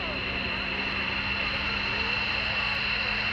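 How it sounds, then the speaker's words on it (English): An airshow airplane at EAA AirVenture flies overhead, giving a steady, continuous engine drone with a high whine. The sound stays even and unbroken throughout. "Her airplane is visible directly overhead."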